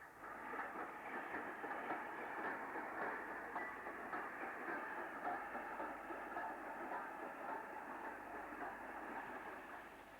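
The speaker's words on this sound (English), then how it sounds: "9F92016 of Carnforth shed ambles past Holbeck's low-level platform." A 9F steam locomotive ambles past a low-level platform hauling returning coal trucks, a steady, fairly faint rumble and clatter of wagons rolling by at a distance throughout.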